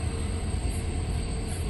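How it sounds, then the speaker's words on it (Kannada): A train at Hassan railway station gives off a low, steady rumble, a constant dull mechanical drone with no voices, heard at moderate distance. "ಈಗ ಹಾಸನ ರೈಲ್ವೆ ಸ್ಟೇಷನಲ್ಲಿ ಇದ್ದೀವಿ"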